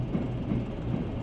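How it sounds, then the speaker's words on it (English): A diesel railcar train passes in the Diesel Railcar Simulator game with a low, steady engine and wheel rumble, close and unbroken for about a second. "like this is passing here, so this is more of like an intercity train"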